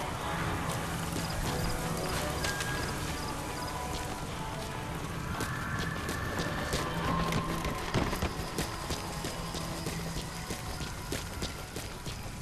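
Horse hooves clip-clop steadily on the ground in Metal Gear Solid V: The Phantom Pain, a continuous rhythmic patter of close hoofbeats over game ambience and light rain-like hiss, with no talk.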